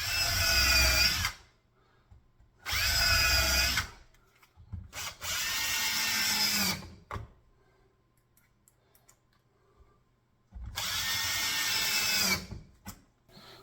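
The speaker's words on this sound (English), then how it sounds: "I'm going to countersink and drill pilot holes for screws to hold this onto the back side of the layout bench work here." A power drill countersinks and bores pilot holes in wooden layout bench work, in four separate whirring bursts of one to two seconds each, with quiet pauses between them.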